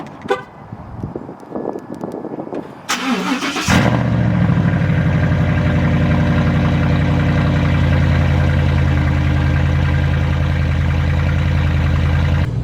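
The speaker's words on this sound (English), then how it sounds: "Cold starts especially. I'll go ahead and insert a clip of that for you guys here." A Gen 1 Ford Raptor with straight pipes and no muffler or resonator cold-starts loudly and close by, with a few clicks and a brief crank before the engine catches and settles into a heavy, rumbling idle.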